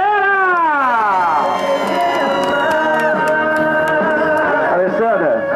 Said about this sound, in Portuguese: palmas pra galera!